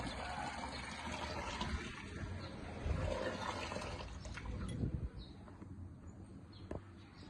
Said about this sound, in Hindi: इतने बर्तन धुल रहे हैं।